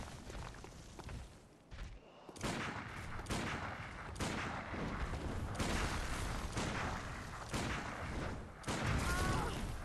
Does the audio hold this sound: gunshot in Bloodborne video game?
yes